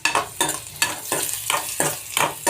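Beetroot being fried in a pan the way potatoes are fried, with rhythmic scraping stir strokes about every half second over a steady sizzle, close and fairly loud.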